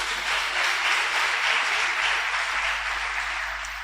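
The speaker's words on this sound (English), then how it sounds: "Let's give them a round of applause also." Applause from a matric results event audience held at a correctional facility, a steady dense wash of clapping at moderate level that holds evenly for the whole stretch and eases slightly near the end.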